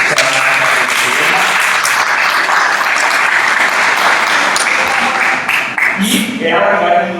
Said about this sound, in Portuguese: Peço uma salva de palmas para